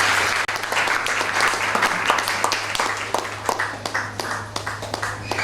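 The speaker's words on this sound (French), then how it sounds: "Est-ce qu'on peut acclamer pendant qu'elle est en train de venir?" Applause from a church congregation at a prophetic banquet, steady dense clapping throughout as a woman named Patricia comes forward, close and sustained with faint voices underneath.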